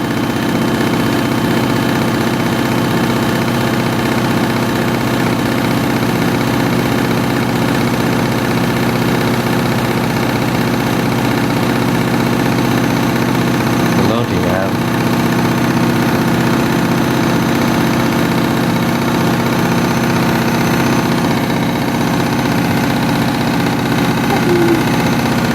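Massively overloaded washing machine in its spin cycle, reaching about 800 rpm, giving a loud steady droning hum with constant vibration and a brief thump midway.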